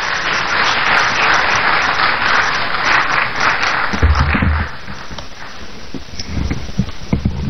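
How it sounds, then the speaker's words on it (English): Audience applause at a university inaugural lecture, a steady dense clapping wash that fills most of the clip, thinning toward the end as a few louder close claps and low thumps stand out. "Let's welcome him with a round of applause."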